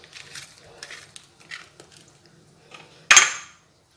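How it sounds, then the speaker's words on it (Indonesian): Turmeric is pounded with coarse crystal salt in a kitchen, heard as scattered soft knocks and scraping that end in one sharp, loud strike near the close. "ini mau saya tumbuk dengan garam kasar, garam kristal ya"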